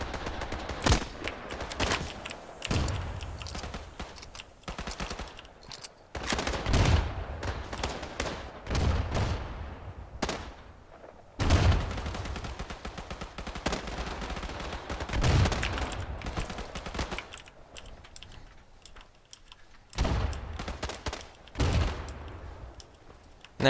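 Rapid bursts of gunfire from the Days of War video game, a World War II shooter, come in repeated volleys with short pauses, loud and close, alone without talk.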